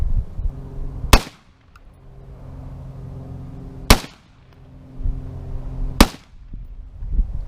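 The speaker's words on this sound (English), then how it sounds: "I set 3 rounds downrange" Three sharp rifle shots crack out several seconds apart at an outdoor range, fired at a target through a cheap red dot sight, loud and close over a low steady background hum.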